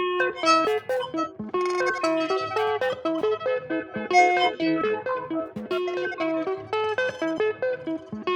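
A synthesized, processed musical phrase from a spectral mesh generator effect in the FreqBlender plugin, with shimmering, metallic harmonic textures, plays in short rhythmic bursts, clear and close, with no voices.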